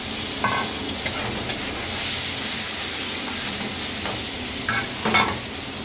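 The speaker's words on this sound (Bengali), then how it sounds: "এই তেলের ভিতরেই দুটো পেঁয়াজ, একটা টমেটো দিয়ে দেবো।" Onions and tomato hit hot oil left over from frying fish, giving a steady close sizzle with a few brief louder crackles and stirring bursts, no talk.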